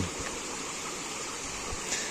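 A river in the Belfast Hills flows with a steady, faint rushing wash of water, continuous and even throughout, with no voices over it.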